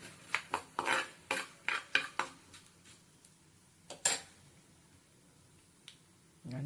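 Spices and urad dal being dry-roasted in a pan, with a run of sharp, quick clicks and scrapes of a spoon against the metal, then a few scattered taps with quiet gaps between them.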